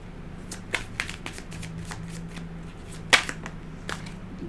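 Tarot cards are shuffled by hand in a quiet room, a run of soft, quick riffling snaps and slaps with one sharper crack near the end, close and alone without talk.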